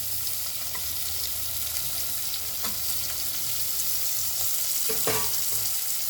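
Garlic, curry leaves and onion frying in a pan for ivy gourd ullikaram, giving a steady, close crackling sizzle throughout with a few brief scraping stirs and no talking.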